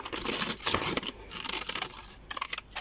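Scissors snipping through paper during a craft demo, a series of quick close crisp cuts with slight rustling between them, quiet and alone without talk.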